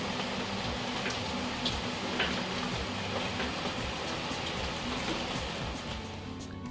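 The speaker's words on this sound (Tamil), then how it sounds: "சமைச்சிட்டு இருக்கும்போதே லைட்டாக தூறல் வர ஆரம்பிச்சிருச்சு" Light drizzle patters steadily outdoors where cooking is underway, a soft, even hiss of rain with faint scattered ticks, fading slightly at the end.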